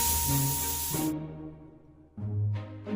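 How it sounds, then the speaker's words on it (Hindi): A kitchen pressure cooker lets off steam at night in two loud hissing bursts, the first cutting off abruptly and the second starting after a short pause, over a low background hum. "कुकर की सीटी का आवाज"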